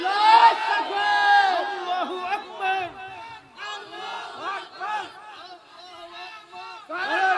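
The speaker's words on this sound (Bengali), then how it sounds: "তাকবীর তোলেন তোলেন।" A large crowd at an outdoor religious sermon gathering roars a takbir chant in unison, loud, repeated shouted waves filling the whole stretch with massed voices.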